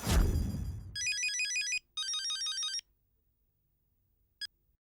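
Phone call tones from a handset: two long electronic ringback bursts with a brief gap, then a short single blip, heard clearly after a fading low rumble, with no talking.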